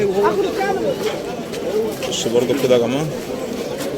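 Pigeons coo amid the bustle of a pigeon market in Alexandria, soft and intermittent beneath steady, close conversation from several people.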